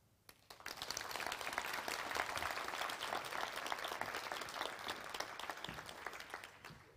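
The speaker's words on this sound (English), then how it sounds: "May I have your applause for her?" A conference audience in Sofia breaks into loud, sustained applause from a large crowd after a short quiet start, the clapping holding steady as a dense wash of many hands to the end.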